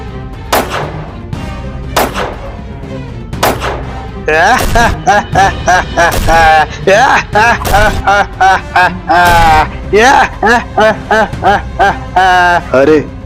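Rapid bursts of loud animated gunfire crack repeatedly in quick succession, with a few separate shots before a sustained volley.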